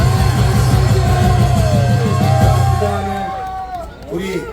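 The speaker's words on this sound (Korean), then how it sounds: "자 엄청에게 큰 박수 부탁드립니다" Crowd cheering at an outdoor street rally at Deoksugung in Seoul, loud massed voices with rhythmic shouting and applause, amplified sound ringing through and fading near the end.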